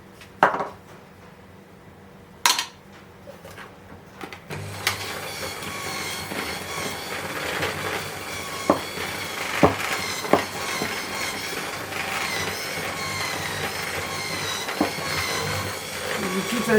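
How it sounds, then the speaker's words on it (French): Gingerbread ingredients get stirred together in a bowl, with a spoon or whisk scraping and clinking in a steady rhythm after a few sharp knocks at the start, and a voice talking over parts of it. "Et on mélange tout."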